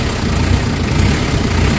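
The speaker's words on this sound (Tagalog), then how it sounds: "Tingnan mo yung response ng engine, oh." A Nissan Vanette engine runs after a fix for low power and throttle delay, a loud, even, continuous idle drone heard close up with no talking.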